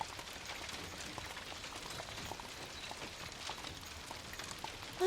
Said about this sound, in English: The rain must have begun right as you were on your way back.